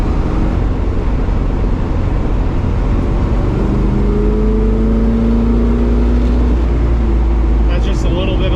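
A 1970 Chevelle with an original 454 LS6 V8 runs at high RPM at low road speed, a loud continuous droning exhaust with rising tones, heard from inside the car.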